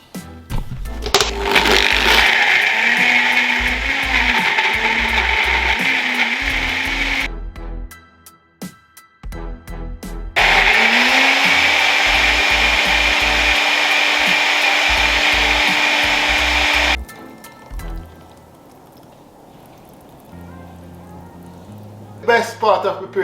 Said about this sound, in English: blend everything together.